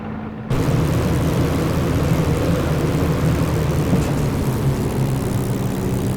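Steady propeller drone of a FlyingIron Spitfire's piston engine in Microsoft Flight Simulator 2020, starting abruptly and then holding a loud, even roar with a low hum throughout.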